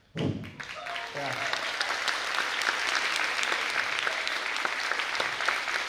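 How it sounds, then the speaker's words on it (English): A school concert audience at a wind ensemble's final concert breaks into sustained, even applause, starting abruptly and holding a broad wash of many hands clapping, a few voices faint beneath. "Hold your applause to the end"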